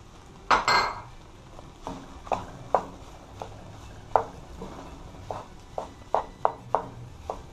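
Chicken fried rice stirred in a pot, Jamaican style: a spoon clanks and scrapes against the metal pot in irregular knocks, close and fairly sharp, with no talking.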